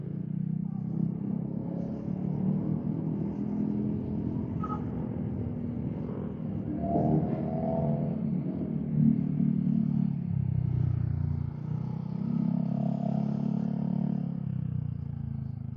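A loud aftermarket exhaust rumbles through city riding, a continuous deep drone that swells and eases with the throttle, with faint clatter mixed in over the long stretch.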